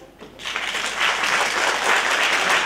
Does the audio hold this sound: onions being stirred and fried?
no